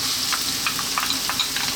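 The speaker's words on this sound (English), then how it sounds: "Getting that nice and hot, and what we're going to do is drop in first our garlic and ginger. Followed by our onion." Garlic, ginger and onion sizzle in hot soya oil, a steady close crackle with scattered sharp pops and stirring scrapes, no voices.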